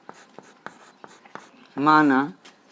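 Pen strokes on paper while a math problem is worked out, several short scratchy marks in an irregular rhythm, close and fairly quiet, with a brief spoken word partway through.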